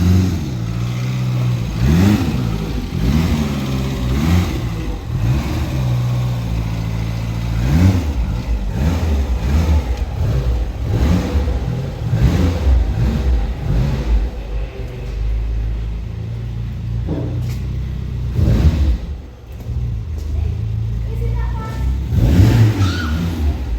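A Vauxhall Carlton 24-valve engine runs close by, a loud mid-pitched rumble with repeated revs that rise and fall in rhythmic surges, briefly dipping near the end before revving again.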